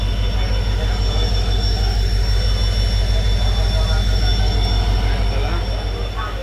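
The Tutari Express locomotive rumbles close by on the Konkan Railway with a steady, heavy mechanical drone and rhythmic pulsing, loud and continuous, a high whine riding above it.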